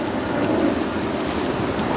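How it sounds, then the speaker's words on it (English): Ocean waves surge into a seaside parking lot, producing a dense, continuous rush of water and wind noise, loud and close throughout a brief stretch without speech. "Man, these waves are kicking."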